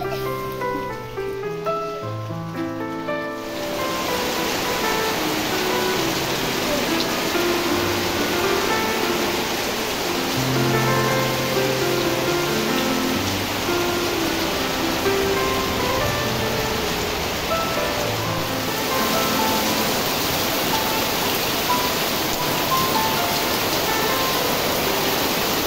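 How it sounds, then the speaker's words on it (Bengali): A storm brings rain and strong wind, a dense, steady rushing hiss that holds without a break for almost the whole stretch after a short musical opening. "এদিকে দেখো ঝড়, যেমন বৃষ্টি হচ্ছে তেমন হাওয়া বইছে, বিদ্যুৎ চমকাচ্ছে।"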